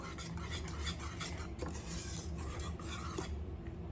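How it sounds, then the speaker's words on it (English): Cornmeal porridge stirred in a pot, a steady close scraping and rasping of the spoon against the pot with faint sizzling underneath, continuous throughout and ending abruptly near the end. "I just want my cornmeal to cook through properly, so I'm just stirring and just allowing it to cook"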